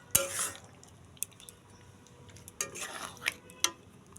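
A utensil scrapes and clinks against a pan while pointed gourd curry with coconut milk is stirred, giving a few sharp metallic taps and scrapes spread over four seconds against a quiet, faintly sizzling background.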